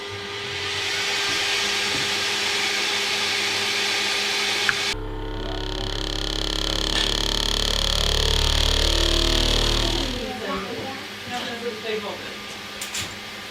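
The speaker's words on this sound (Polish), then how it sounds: "drukarka startuje. No, startujemy." A Creality K2 Plus 3D printer whirs and hums steadily, then shifts to a deeper motor drone with clicking movements as it starts up and auto-calibrates, while a person talks.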